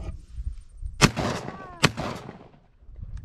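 Two loud shotgun blasts from a break-action shotgun being fired at a farm, sharp reports about a second apart, each with a short ringing tail, over faint background noise.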